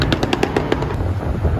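A rapid string of sharp popping bangs from a Dodge Hellcat's exhaust at a cars and coffee meet, close and loud, firing in quick bursts over a low engine rumble.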